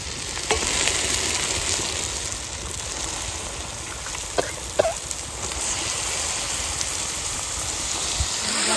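Duck meat sizzling steadily in a hot pan with raw garlic, a loud continuous frying hiss with a few faint clinks of a spoon partway through.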